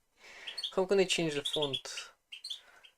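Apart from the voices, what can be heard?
pet birds chirping indoors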